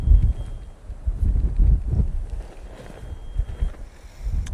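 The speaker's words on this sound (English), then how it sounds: "You see, you can hear it getting windier. Probably sure you can hear it on the microphones." Wind buffeting the microphones at Manchester Airport, low rumbling gusts that rise and fall in irregular surges, close and fairly loud, with no voices.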